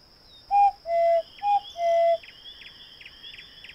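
A character in the video game Edna & Harvey: Harvey's New Eyes imitates an owl call with four hooting whistled notes in a quick, uneven sequence over faint ambient chirps and a high, steady tone.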